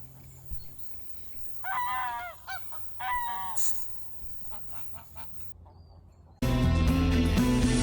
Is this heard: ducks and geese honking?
yes